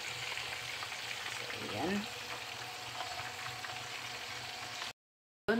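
Fish and vegetables frying in a pan, a steady close sizzle and crackle throughout with a brief scrape of stirring, then a short silence before a final burst of sizzling.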